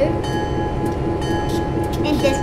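A train in the Train Simulator 2013 game rumbles on steadily with a low continuous drone and faint clicks, while people talk over it.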